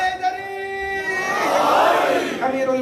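A majlis crowd chanting the slogan Haidari in unison without a microphone, a loud swelling roar of many voices that peaks and fades after a lead voice.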